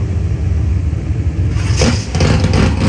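Drag racing car engines rev and rumble at the NHRA Gatornationals, a loud, steady low roar with a brighter, rising burst of revving in the second half.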